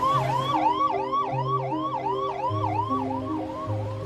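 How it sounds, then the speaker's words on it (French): Wailing ambulance siren outside a New Delhi hospital, cycling steadily up and down in pitch with several repeated sweeps, fairly near, over a low hum of traffic and a steady engine drone. "Des ambulances incapables de décharger leurs patients."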